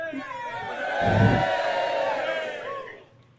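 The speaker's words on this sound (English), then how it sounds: "The crowd erupts." A crowd erupts in loud cheering and whooping that swells and holds, then fades, with voices yelling through the roar.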